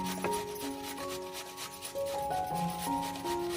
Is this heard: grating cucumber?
yes